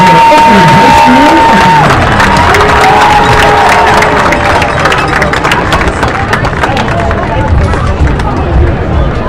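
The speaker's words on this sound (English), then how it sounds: "How about another round of applause for Oak Ridge High School" Crowd noise from a high school varsity football game in the stands, with loud sustained cheering, whoops and clapping filling the whole stretch, tonal horn or band notes early on, and voices mixed into the din.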